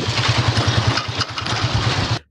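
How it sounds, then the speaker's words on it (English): Motorbike engine running close by with a rapid, pulsing low thump that holds steady for about two seconds before cutting off abruptly. "Sometimes we used the motorbike."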